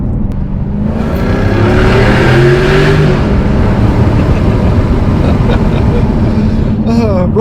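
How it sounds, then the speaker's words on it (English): A Jaguar F-Type with its exhaust in loud mode accelerates under a bridge, a loud continuous engine roar that rises in pitch and holds, close and overpowering throughout, with brief higher squeals near the end. "Yes, I've got the exhaust in loud mode, of course I have."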